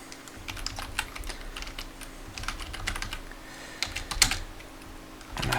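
A name is typed on a computer keyboard in irregular bursts of close, crisp clicks with short pauses and a sharper cluster of keystrokes near the end, over a faint low hum.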